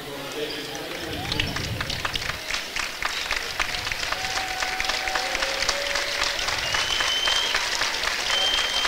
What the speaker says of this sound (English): They get a big round of applause from their crowd.